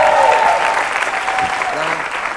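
A studio audience at a television talk show applauds in a dense, lively burst of clapping that tapers slightly over a couple of seconds, with a faint voice underneath.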